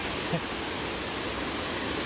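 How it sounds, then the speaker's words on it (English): Shoals Falls in South Mountain State Park, North Carolina, pours as a steady broadband roar of rushing water, even and unbroken, fairly close and loud with no voices over it. "I'll try to get to the top of that waterfall for you guys"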